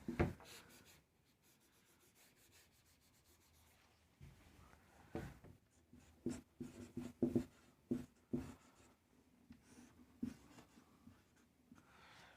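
A maths solution written out by hand for a limits problem, with pen strokes scratching across paper in irregular bursts, some sharp and close, others softer, and no talking.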